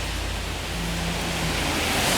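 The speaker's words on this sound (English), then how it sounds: "It is raining out here" Rain falling outdoors, a steady dense hiss of drops filling the whole clip evenly, close and fairly loud with no voices.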